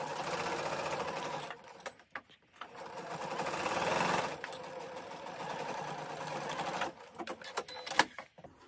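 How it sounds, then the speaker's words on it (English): Sewing machine stitching a triangle piece of a Maple Leaf quilt block, running in steady bursts with short pauses and a few clicks near the end, close and alone. "we're going to sew this in place"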